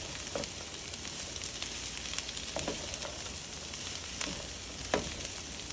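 Small-diced celery, part of a Cajun/Creole holy trinity base, sizzles in a pan with a steady, dense crackling hiss and occasional sharper pops, fairly quiet and continuous.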